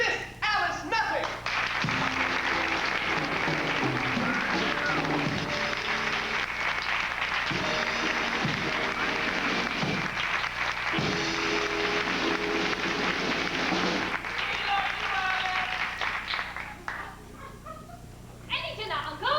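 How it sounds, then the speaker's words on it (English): Applause from a music-hall audience for a guest male impersonator, broad and sustained under music and scattered voices, fading out near the end. "Ladies and gentlemen, a warm round of applause, if you will, for tonight's guest artiste"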